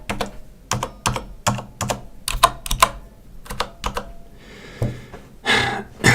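Typing on a Corsair Strafe keyboard with Cherry switches, a quick run of crisp keystrokes landing in a fairly steady rhythm, close and clear, with a few louder clattering presses toward the end.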